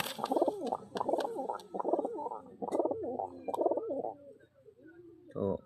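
Domestic pigeons coo close by in a steady series of throaty, rolling calls, about six bursts repeated in a rhythmic pattern, with a brief soft pause before a final coo.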